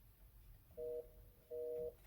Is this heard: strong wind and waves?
no